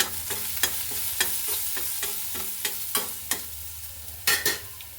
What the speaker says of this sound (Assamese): এতিয়া দি দিম অকণমানি জিৰা, ধনিয়া গুড়ি। এতিয়া এইকণ ভাজি ল'ম।